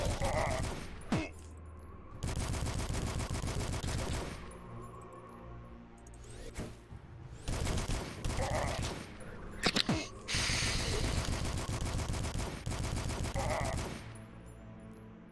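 Bursts of rapid automatic gunfire in a horror video game, loud repeated volleys lasting a second or two each, separated by short pauses and scattered single shots, with no talk.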